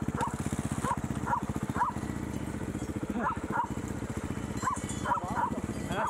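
A dog outdoors in Val Camonica barks repeatedly in short, evenly spaced bursts over a steady, engine-like droning hum, with no speech.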